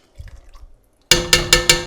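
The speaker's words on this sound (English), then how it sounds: "And if you need a little splash of water." Water is splashed from the pan into a yogurt chickpea curry (dahi chole), giving a few quick, loud splashing pulses after soft cooking sounds.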